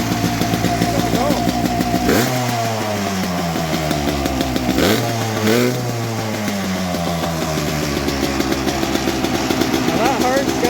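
A small engine, revived after a shot of brake clean, cranks, catches and revs loudly, dies back and restarts twice, ending in rough running up close.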